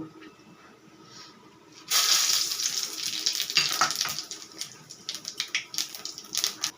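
Whole cumin and dried chillies hit hot oil with a sudden loud burst of sizzling that settles into a steady crackling fry, close up, for cabbage curry made with fish head.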